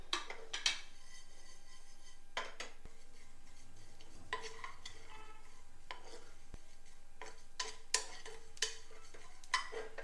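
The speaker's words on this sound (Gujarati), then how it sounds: "એક મિનિટ જેવું મેં થવા દીધું છે અને રાઈ ફૂટવા લાગી છે।" Whole coriander, fennel, cumin and mustard seeds dry-roasting in a hot pan, with sharp clinks of a spoon against metal and scattered faint pops and crackles across a quiet background.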